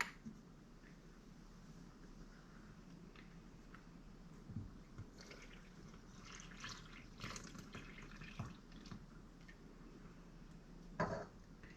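Warm water mixed with yeast and a teaspoon of sugar poured into a well of flour for soft pretzels, a faint, soft trickling and splashing with small irregular bursts, close and quiet, with no talking.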